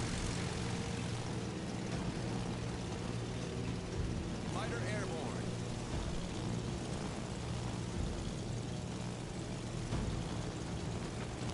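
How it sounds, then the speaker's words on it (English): Propeller dive bombers fly in World of Warships Legends, a steady droning engine hum that holds throughout, with a voice talking over it. "I might as well send out some planes like my dive bombers."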